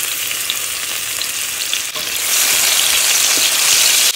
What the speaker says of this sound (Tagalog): Gisa natin ang kamatis.